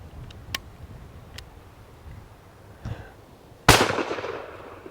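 A shotgun firing a steel shot cartridge gives one loud, sharp blast with a decaying tail, preceded by faint outdoor clicks and handling noises.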